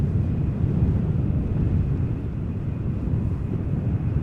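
A Delta Airbus A330-300 arriving from Detroit at Amsterdam Schiphol in gusty crosswind conditions, a steady low, broad jet roar that holds at moderate, slightly distant loudness throughout with wind buffeting mixed in, no voices.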